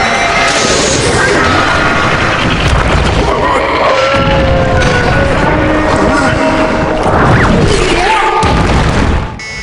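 Explosions from an Ultraman Blazar episode, loud rumbling blasts and crashes filling the whole stretch amid dense tokusatsu battle effects, with voices speaking over parts of it.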